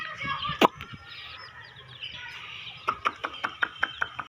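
Young chicks and baby ducks outdoors, a run of sharp chirps and clucks over a steady background hum, with a loud peep early on and a quick series of calls near the end.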